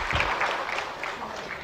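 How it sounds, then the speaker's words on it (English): Audience at a leadership panel on infrastructure, resilience and oceans applauds the panelists, a brief, steady patter of many hands clapping, moderately loud and continuous. "give a big applause to the panelists"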